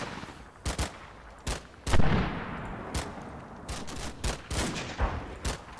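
Machine gun fire in the tactical war game Combat Mission Final Blitzkrieg: sharp bursts and single cracks at irregular intervals, fairly distant, with a louder, heavier boom around the second mark and quiet rumble between shots.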